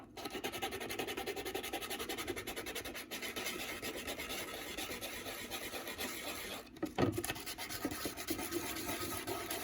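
Sandpaper rubs steadily against a LEGO train motor part, a close, quiet, continuous rasping scrape with an even back-and-forth rhythm and a brief bump near the end.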